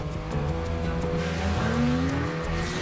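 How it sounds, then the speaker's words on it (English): A Nissan Maxima four-door sports car drives by with a steady engine drone whose pitch sweeps upward as it speeds, heard up close with no talking. "Nissan Maxima, the four-door sports car."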